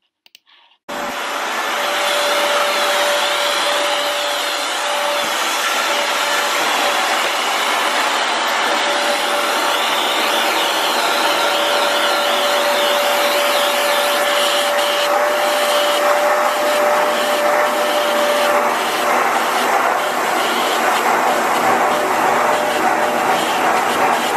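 A Rug Doctor carpet cleaning machine runs with a steady, loud broadband whir and a constant tonal hum, continuous for over twenty seconds after a brief start.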